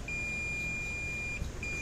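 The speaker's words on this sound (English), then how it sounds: "it should just give us this one little beep" A multimeter on diode test gives a steady high-pitched electronic beep for over a second, breaks briefly, then resumes, with no talking, while checking a Gallagher M600 fence charger under repair.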